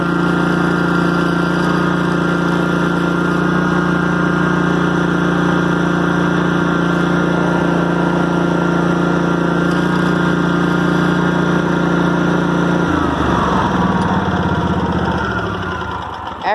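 A Toro walk-behind lawn mower engine runs at a steady, loud, buzzing idle close by, then drops in speed and winds down near the end.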